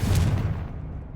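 A Confringo fire spell blast in Hogwarts Legacy lands as a single deep booming burst, loud and close, with a rumble that quickly fades away.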